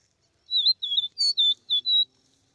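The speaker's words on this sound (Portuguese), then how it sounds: "O que é que você acha desse grito desse passarinho?" Caboclinho seedeater singing in the bush: five short, bright whistled phrases in quick succession, clear and fairly close, with near silence around them.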